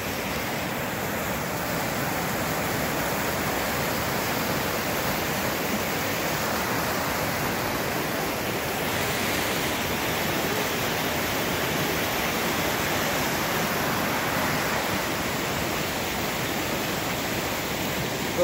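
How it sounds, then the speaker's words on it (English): Rosseau Falls waterfall rushing in a steady, dense broadband roar after rain, loud and continuous throughout, with no voices. "I'll get a little closer for you guys to this waterfall."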